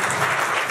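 A short burst of applause from guests at a civil wedding ceremony in a hall: dense, even clapping that fills the whole brief moment.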